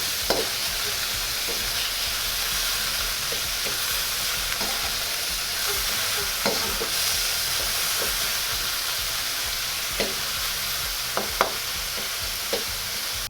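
Pork stir-frying in a wok for Shanghai lo mein, a loud continuous sizzle and hiss with occasional sharp scrapes and taps of the spatula, no talking.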